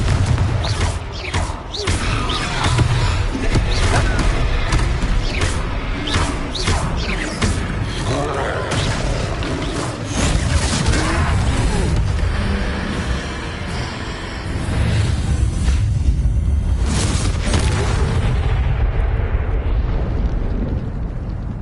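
The Confringo blasting spell in Hogwarts Legacy sets off a string of loud, booming explosions with crashes and thuds during a fight against a troll, with game noise filling the background.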